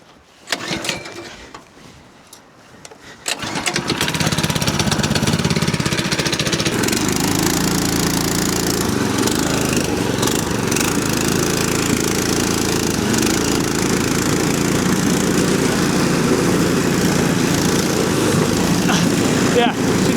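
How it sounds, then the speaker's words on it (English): A homemade track sled's small engine starts up and settles into a loud, steady buzzing drone for the rest of the test drive, with faint clatter before it catches. "we're gonna take it for a test drive and make sure it works"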